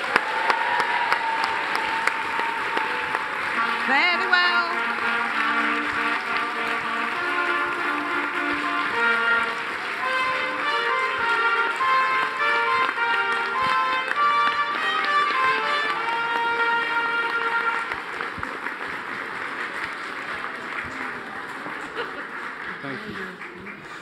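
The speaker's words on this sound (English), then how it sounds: "Give her a cheer as you leave." A university event audience claps and cheers as the Queen leaves, with sustained applause and a few spoken words and musical tones mixed in before the clapping fades near the end.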